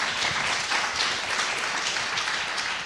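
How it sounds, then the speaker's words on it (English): Audience applause at a county district attorney debate: dense, even clapping from a room full of people, sustained and fairly loud for a few seconds with no talk over it. "Round of applause real quick"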